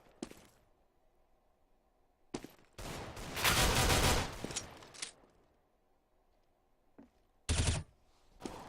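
Counter-Strike gunfire on the de_inferno map during a competitive match: a couple of sharp isolated shots, then a dense rapid burst lasting about two seconds, and another loud shot near the end, separated by quiet gaps.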